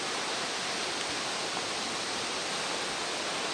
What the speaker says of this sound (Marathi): छोटासा धबधबा आहे बघूया दिसतोय का